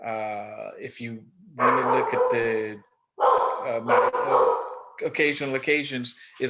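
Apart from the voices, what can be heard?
dog barking in the background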